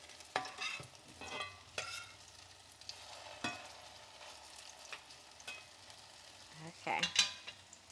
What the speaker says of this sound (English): We're gonna let this fry for about 2 minutes on this side